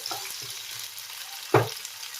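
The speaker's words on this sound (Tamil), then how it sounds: "இப்போ வந்து பச்சை மிளகாவும் வதங்கிடுச்சு" Green chillies sautéing in a pan for a chutney, a steady low sizzle with a single louder scrape of stirring near the end.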